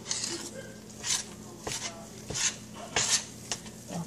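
A spoon scrapes and clinks around a pot of hot broth for tamales, giving several soft, irregular stirring strokes with light metallic taps in a quiet kitchen.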